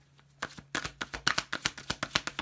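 A deck of tarot cards is shuffled up close in a quick run of crisp riffling bursts, each one a short papery flutter, with no talk over them.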